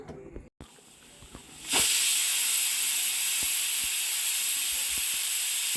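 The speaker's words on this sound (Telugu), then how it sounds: "సో మళ్ళీ ప్రెషర్ పెట్టేసుకున్నాము కరెక్ట్గా టూ విజిల్స్ తర్వాత స్టవ్ ఆఫ్ చేసేసుకుందాం" A pressure cooker on a stove, cooking mutton and prawn pulao, bursts into a loud, steady steam whistle after a few quiet seconds and keeps hissing to the end.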